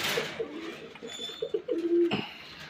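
A Rajshahi Giribaz pigeon gives a close, clear run of throaty rolling coos that swell in a quick burst of pulses and end on a longer held note, followed by a brief rustle.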